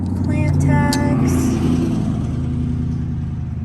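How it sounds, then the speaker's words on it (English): A loud motorcycle rumbles past outside a plant shop, a heavy low engine drone that swells and then slowly fades over a few seconds, with a brief voice near the start. "Excuse the loud motorcycle."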